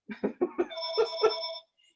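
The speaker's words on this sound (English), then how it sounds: "I'm not going to answer that phone." An indoor telephone rings during an art session: a few quick separate chimes, then a sustained ringing tone that stops abruptly, followed by silence.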